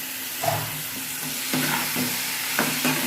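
Steady sizzling of taro leaves frying in a pan, with a few scraping stirs and clatters of a utensil against the metal.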